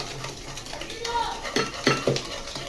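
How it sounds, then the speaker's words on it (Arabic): Orange cake batter being whisked, with quick rhythmic taps and scrapes of the whisk against the bowl growing more pronounced toward the end. "نقلبه شويه ولازم يبقى عامل فوم كده وعامل لون ابيض كده"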